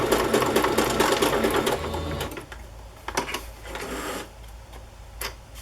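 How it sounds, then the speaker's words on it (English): A sewing machine runs in a steady burst as it stitches across a wallpaper collage, the motor's whir loud and continuous at first, then giving way to quieter handling clicks and brief shorter runs. "I'm just going to sew across the top here so this doesn't lift up"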